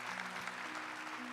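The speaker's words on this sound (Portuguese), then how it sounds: "Aplauda o Evangelho do Senhor." A church congregation applauds after the Gospel reading at Mass, a steady wash of clapping from many hands filling the space for just over a second.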